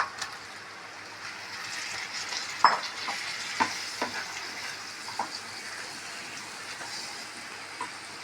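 Pieces of chicken, first boiled with salt and turmeric, are stirred in a pan as they fry. A steady sizzle runs throughout, broken by a few louder scrapes and clinks of the spoon, and nobody speaks.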